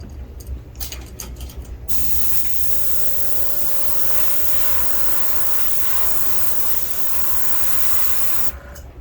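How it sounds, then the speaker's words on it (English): A paint spray gun at about 20 pounds of pressure hisses continuously for several seconds, loud and steady with a faint whine, after a few brief clicks and puffs of air, painting a vintage Wiggle Wart fishing lure. "Again, I'm spraying about 20 pounds of pressure."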